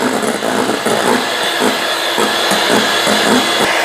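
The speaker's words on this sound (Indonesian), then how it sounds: "Lalu kita akan mixer sampai stiff peak. Kita naikkan kecepatannya ya." An electric mixer whips egg whites toward stiff peaks for a pandan sponge cake, running at a raised speed with a loud, steady whirring drone and slight rhythmic pulses, with no talk.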